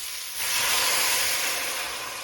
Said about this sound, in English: Now I'm going to just go ahead and pour these green beans with the juice, with the liquid, right into the pan.